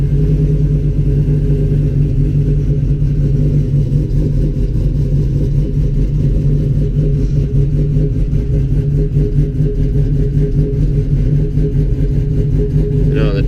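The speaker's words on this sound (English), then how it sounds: "I'm gonna start it up. It's a cold start," A cammed Chevrolet Silverado truck engine cold-starts and settles into a loud, deep, choppy idle, its lopey rumble holding steady and close throughout without any talk.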